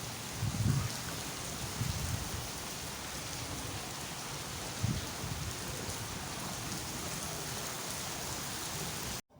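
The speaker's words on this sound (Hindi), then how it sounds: "बारिश का मौसम आया है" Steady rain falls heavily during the rainy season, a dense continuous hiss of drops on surfaces with a few low thumps, without any voices.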